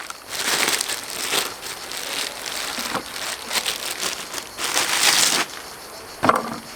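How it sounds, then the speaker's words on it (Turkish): A plastic bag holding 34-day dry-aged beef is opened by hand, giving loud crinkling and rustling bursts in several bouts, close up with no talk. "Şimdi artık poşeti açalım."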